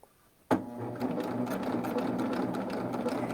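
A serger fitted with a shirring foot sews ruffles. After a quiet moment it starts with a sharp jolt and settles into a continuous, even, rapid stitching hum, close and steady.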